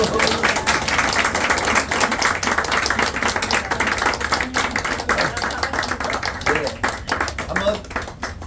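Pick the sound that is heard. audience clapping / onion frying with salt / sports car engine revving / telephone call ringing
audience clapping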